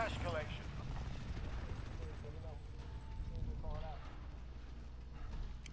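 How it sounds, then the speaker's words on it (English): A helicopter in the battle royale game Warzone Plunder mode thrums steadily in the background beneath a voice and game effects. "That's that chopper."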